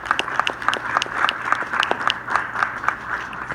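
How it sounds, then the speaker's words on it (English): Audience applause at a Take Back the Night event on the Indiana State University campus, dense continuous clapping from a crowd at moderate volume, steady throughout. "give yourselves a round of applause for your show here tonight"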